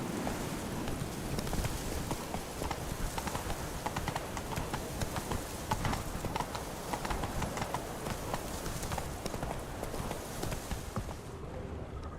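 Hooves of the horse Scorpion clip-clop in The Witcher 3: Wild Hunt, a steady, rhythmic stream of close hoofbeats over soft ambient noise that runs throughout before fading at the very end.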